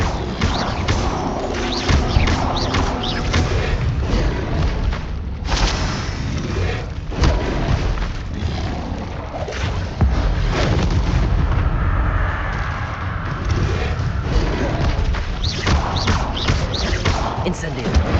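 Repeated fiery Incendio spell blasts from Hogwarts Legacy go off in a loud, dense, continuous barrage of booming bursts, with a player shouting over the combat.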